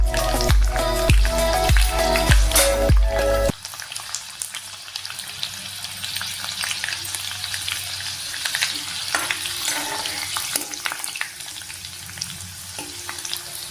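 Garlic cloves, fifteen to twenty of them, drop into hot oil for a tomato pickle, opening with a loud splattering burst that settles into a steady, close crackling sizzle with occasional stirring clinks.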